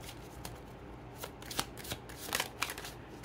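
Tarot cards being shuffled by hand, a soft, steady riffling with several sharper flicks and snaps of the deck, close up and quiet.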